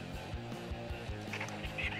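A chicken in the video game ARK clucks in a quick run of short, repeated squawks close by, with faint noise behind.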